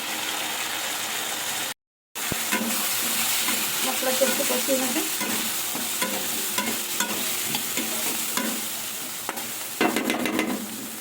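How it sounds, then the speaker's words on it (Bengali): Ground spices with red chili powder, coriander and cumin fry in oil for a vegetarian soyabean curry, sizzling steadily as a spatula stirs and scrapes the pan in repeated strokes. "স্বাদ অনুযায়ী নুন দিয়ে দিলাম মশলাটা একটু কষিয়ে দিলাম"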